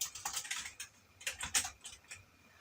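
Quick bursts of computer keyboard typing, a dozen or so light clicks in short clusters, close and quiet with no voice.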